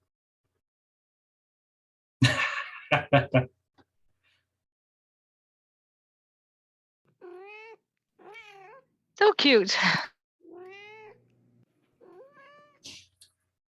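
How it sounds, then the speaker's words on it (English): Cats meowing in short online videos: several distinct, tonal meows arrive in bursts with gaps between them, close and clear, while a person briefly speaks in between. "Now, the cats of TikTok."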